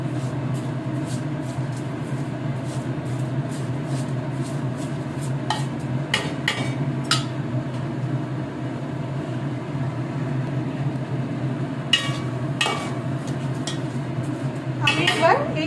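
Rice is stirred in a pot while cooking morog polao, with steady scraping and clinks of a spoon against the pot over a constant stove hum, close, continuing for a long stretch.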